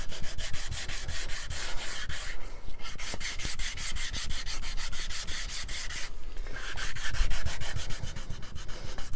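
Hand sanding a wooden banjo fretboard with inlay, close-up steady back-and-forth strokes of sandpaper on wood in a quick regular rhythm, with two brief pauses, loud and alone without talk.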